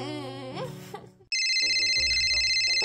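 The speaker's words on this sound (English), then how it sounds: "Is that my phone?" A telephone rings in loud, steady electronic trills after a short, muffled stretch of speech.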